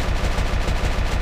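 Rapid gunfire in the video game Valkyria Chronicles, a quick burst of repeated shots in an even rhythm, loud and close with no voices.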